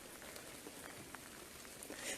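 Rain falls steadily outdoors, a dense even hiss of drops on surfaces with occasional sharper patters, no voices over it.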